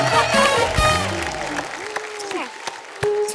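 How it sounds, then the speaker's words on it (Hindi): A studio audience on a Kapil Sharma comedy show claps for Neetu Kapoor, with music and a voice over the applause that fades after the first second into scattered claps. "जोरदार तालियां नीतू जी के लिए"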